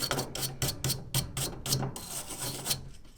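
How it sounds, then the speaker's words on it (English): A brush or sandpaper scrubs a metal furnace burner clean in quick repeated rasping strokes, close and fairly loud, a steady back-and-forth rhythm of about a dozen passes with no talking. "if you don't have a brush, you could just use some sandpaper or a scrubby, or just anything to get it clean, really"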